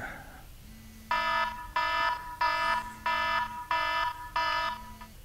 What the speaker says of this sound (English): So I want to hear that alarm loud and clear.